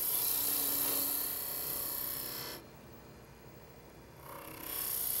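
Wood lathe turning a cake pedestal as a spindle detail gouge cuts a half bead, a steady spinning hum with a scraping hiss that drops away midway and then resumes.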